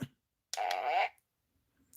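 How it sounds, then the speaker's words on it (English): A single buzzy, rasping toy fart sound effect lasting about half a second, electronic and close, with near silence around it. "That's like the zipper fart there."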